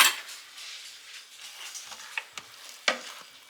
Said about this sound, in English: And I'm just gonna give it a stir.